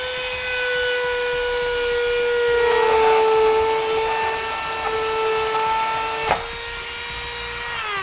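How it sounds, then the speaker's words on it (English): A rotary tool whines at a steady high pitch while trimming plastic on the front of a 2017 GMC Terrain during a tow base plate install. The loud, continuous whir shifts slightly in pitch as it cuts, with no talking. "I'm going to be using a rotary tool to trim this out"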